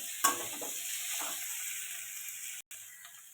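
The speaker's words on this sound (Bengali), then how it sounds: "হলুদ দিয়ে দেবো, লঙ্কার গুঁড়ো দিয়ে দেবো। এটা ভালো করে কষিয়ে নেব।" Bitter gourd and potato sauté in a pan with turmeric and chili powder, giving a soft steady sizzle with a few scraping stirs near the start and a brief cutout near the end.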